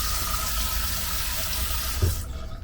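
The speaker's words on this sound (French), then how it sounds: "Le temps que l'eau chasse l'air, ça crée une suroxygénation." Water rushes steadily through a newly fitted under-sink filter cartridge as air is purged, making a continuous close hiss and gush that eases off near the end.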